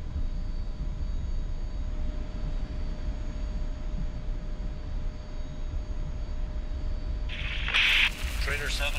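A steady, loud drone from an old airplane engine in the DCS flight simulator holds throughout, with a brief brighter burst near the end.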